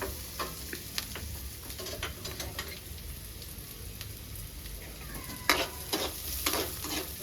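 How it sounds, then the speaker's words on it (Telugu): Food sizzles in a pan on a stove, a faint steady hiss broken by sharp scrapes and taps of a utensil stirring against the metal. "చూడండి ఇంత వరకు ఫ్రై చేసుకుంటే సరిపోతుంది."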